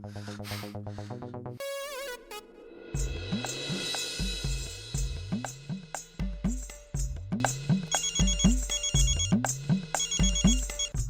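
A phone ringtone plays loudly, starting with a brief ascending beep sequence and then a repeating melodic tune with a steady pulsing beat.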